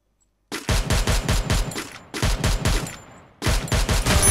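Rapid automatic gunfire from a Free Fire mobile game match, loud, close bursts of repeated shots with a brief pause in the middle, no talk over it.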